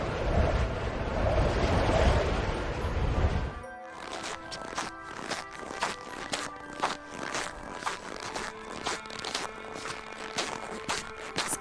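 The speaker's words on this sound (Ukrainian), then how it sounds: "скрип снігу." Crunchy, rhythmic creaking of snow under slow footsteps, close and steady after a brief gust of wind at the start.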